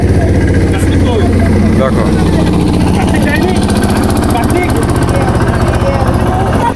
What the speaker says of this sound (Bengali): তো আমাদের পাশ থেকে একটা ট্রলার যাচ্ছে